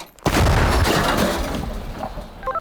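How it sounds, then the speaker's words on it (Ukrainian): An artillery gun near Bakhmut fires a single shot: a sudden loud, close blast followed by a long, rumbling decay. "Постріл."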